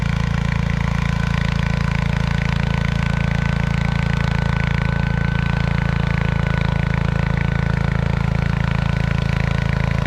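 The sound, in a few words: John Deere 140 garden tractor engine pulling plow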